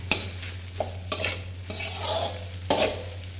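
Rice with Chinese sausage stir-fried in a pan, a soft steady sizzle broken by a few sharp scrapes and knocks of the spatula against the pan, close and fairly quiet.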